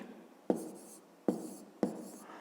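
Handwriting of numbers for a fifth-grade maths exercise gives three distinct, crisp pen taps, each followed by a brief scratch of the stroke, close up and alone.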